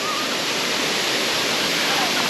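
Laurel Falls waterfall in the Great Smoky Mountains near Gatlinburg, Tennessee, a loud, steady rush of falling water heard close, an unbroken broadband roar that fills the whole moment.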